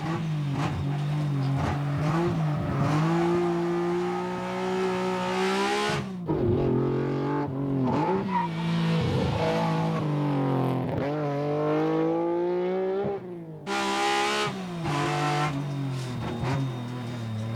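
A tuned Subaru Impreza or Mitsubishi Lancer rally car engine revs hard on a race track, a loud sustained roar rising and falling in pitch, with a brief lift and drop in revs partway before climbing again.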